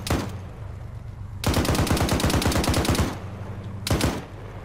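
Arma 3 .50 caliber machine gun firing in a sustained, loud, rhythmic burst of evenly spaced heavy shots, with a shorter burst after a pause and a tail of vehicle rumble.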